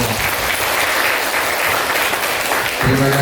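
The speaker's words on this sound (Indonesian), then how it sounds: "Tepuk tangan untuk kita semua." Loud audience applause at a vocational high school gathering, a thick, continuous burst of many people clapping at once that stays full and even for roughly three seconds.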